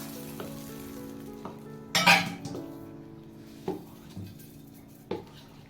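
A spoon stirs tempered oil into moong dal idli batter in a bowl, giving soft, wet mixing sounds broken by a few sharp metallic clinks against the bowl, fairly quiet with no talking.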